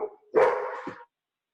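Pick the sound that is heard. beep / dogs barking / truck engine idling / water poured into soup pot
dogs barking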